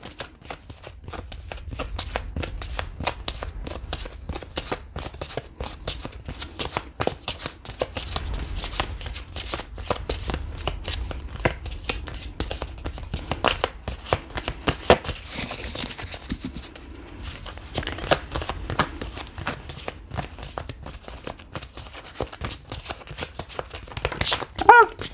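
Tarot cards being shuffled up close, a long run of rapid riffling and flicking taps that keeps going steadily with no real pause.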